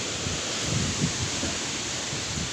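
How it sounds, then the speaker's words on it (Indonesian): Strong wind in extreme weather in Pandeglang, Banten, a continuous loud rushing roar with no breaks, like gusts tearing through trees and buffeting the microphone. "Baru kali ini angin segede ini."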